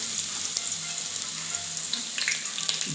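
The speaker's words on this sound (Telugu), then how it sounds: "ఇలా సన్నగా తరిగిన ఉల్లిగడ్డలు వేసుకోవాలి" Thinly sliced onions and garlic cloves frying in hot oil for a paneer curry, a steady close crackling sizzle with a few light stirring scrapes.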